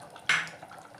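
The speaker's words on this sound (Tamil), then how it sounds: "கொஞ்சமாக புளி கரைச்சி ஊற்றிக்கணும்" Dissolved tamarind water poured into a pot of cooking rice and green gram lentils, heard as a single short, bright splash that fades quickly into a faint kitchen background.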